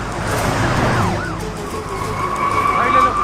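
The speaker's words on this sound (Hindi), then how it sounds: "पुलिस की गाड़ी आ रही है, जल्दी।" A police car siren wails through the scene, its rising and falling tone steady and fairly close, with a busy backdrop of traffic and voices underneath.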